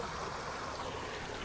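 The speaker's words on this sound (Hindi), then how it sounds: "पानी का फ्लो दिखाता हूँ भाई यहाँ पे आपको" A stream flows on a monsoon trek toward Tahuli Peak, a continuous even rush of water with no speech over it.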